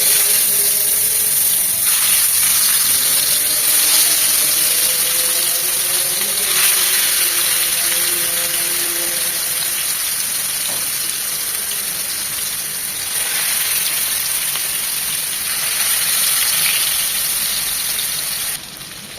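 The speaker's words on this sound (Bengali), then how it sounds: "চিকেনগুলো ভাজতে আমরা প্যানে দিয়ে দিচ্ছি সয়াবিন তেল।" Chicken pieces fry in a shallow layer of soybean oil in a pan, producing a loud, steady hissing sizzle with occasional shifts as pieces are moved, heard close with no speech.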